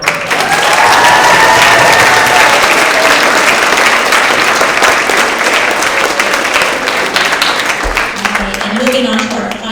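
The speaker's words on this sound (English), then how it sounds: "Let's give her a round of applause." A school award assembly audience for grades six through eight gives loud, sustained applause, dense clapping filling the hall for nearly ten seconds before tapering slightly.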